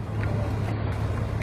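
A motorboat on Lake Garda towing Sunfish sailboats, a steady low engine drone with water and wind rush, close and continuous, no talking.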